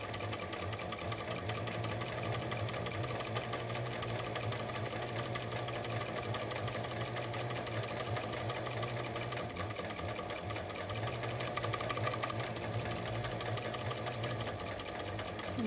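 A sewing machine stitches fabric and bias binding for adjustable underwear. Its fast, steady mechanical whirr runs continuously and evenly, close up, with no talking.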